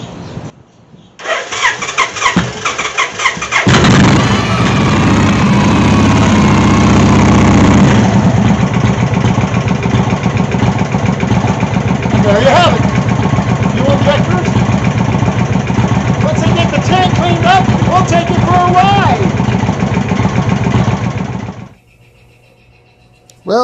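Old engine cranking while its fuel system is primed with dark, dirty fuel returning, a loud, steady mechanical churning running for about twenty seconds before cutting off, with people talking over it.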